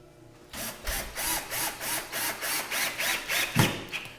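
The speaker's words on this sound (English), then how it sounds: "So we'll put a screw in this side." Power drill driving a screw into a wall stud to mount a shelf in a shop, a rhythmic series of about ten ratcheting whirring pulses, close and clear.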